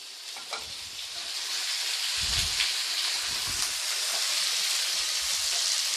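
Raw sour mango pieces sauté in hot oil, giving a steady close sizzle and crackle throughout, with occasional stirring scrapes in the pan and no talk.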